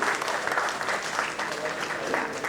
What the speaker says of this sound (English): Let's give a big round of applause for the industry.